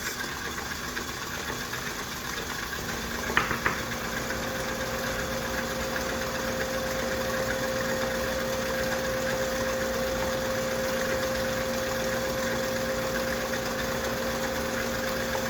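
A mixer whips butter at medium-low speed. Its motor gives a steady, even hum that runs unbroken throughout, with one faint clatter early on.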